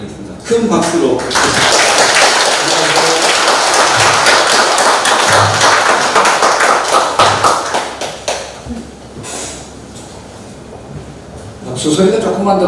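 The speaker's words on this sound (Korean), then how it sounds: "박수 소리가 조금만 더 크면 제가" A loud crowd applauds steadily for several seconds, the clapping tapering off before a voice begins speaking.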